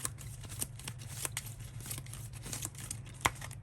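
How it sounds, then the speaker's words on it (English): Railroad Tiles game cards being shuffled together into a new deck, a run of quick papery riffles and snaps at close range over a faint low hum. "You're gonna shuffle them together to create a new deck."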